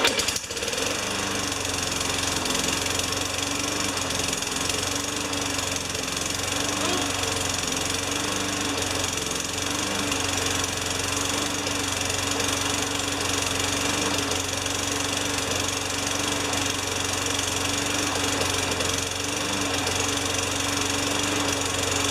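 A junkyard lawn mower engine runs steadily and loudly up close for the full stretch, with a rough, knocking idle and a constant hum. Someone speaks one brief word over it.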